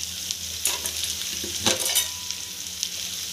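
Goat liver fries on a tawa over medium heat with chilli pieces, a continuous soft sizzle broken by a few scraping stirs of a spatula, close and without speech.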